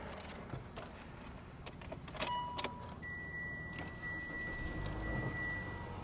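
Keys jangle briefly, then a car engine starts and settles into a quiet, steady run with a faint whine.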